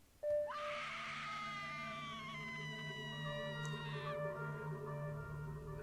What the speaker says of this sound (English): Oh, we're hearing the screams again.